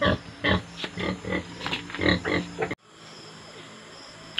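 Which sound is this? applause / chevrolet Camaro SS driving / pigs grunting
pigs grunting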